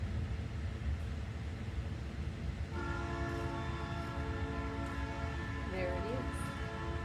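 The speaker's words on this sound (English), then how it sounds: "Oh, here comes the train, y'all." A train passes with a long, steady horn blast entering midway and holding to the end, heard over constant background noise.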